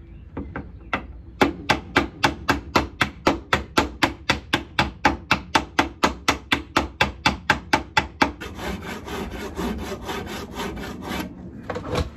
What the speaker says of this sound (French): Moi, je prends un marteau parce que ce sera plus pratique pour moi qu'avec le table